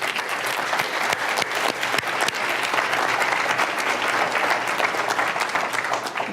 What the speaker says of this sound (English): First, big round of applause for Slade Gorton.